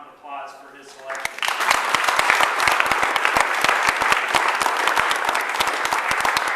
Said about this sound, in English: Let's give Tom a round of applause for his selection.